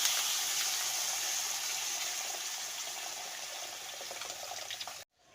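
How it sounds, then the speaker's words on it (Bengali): Hot water pours steadily into a pot of curry with beans and potatoes for about five seconds, a bright continuous splashing stream heard up close and alone before it stops abruptly. "এবার এর মধ্যে পরিমাণ মতো গরম জল অ্যাড করে দিচ্ছি"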